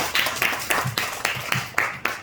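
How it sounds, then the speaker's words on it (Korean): A church congregation at a Wednesday evening worship service claps in unison, eight or so loud, evenly spaced claps in a steady rhythm, close and prominent. "하나님께 영광의 박수를 드리겠습니다."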